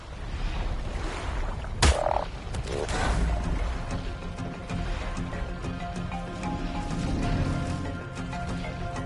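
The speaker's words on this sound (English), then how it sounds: "I pissed a frog off, apparently." A frog croaks repeatedly in a video game, a loud rhythmic rattling call over dense game ambience, with one sharp thump early on.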